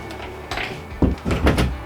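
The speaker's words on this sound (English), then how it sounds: "Can I try closing the door and see if it works?" A bedroom door fitted with a new plate and two screws is pushed shut. A soft shuffle comes first, then a pair of close, dull thumps as it meets the frame.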